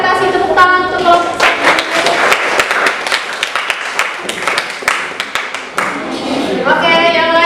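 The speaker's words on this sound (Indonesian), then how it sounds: "Boleh kasih tepuk tangan untuk kelompok." A school classroom applauding a group of students, a burst of sharp close hand claps of several seconds that fades into quieter scattered claps, with a voice speaking at the start and end.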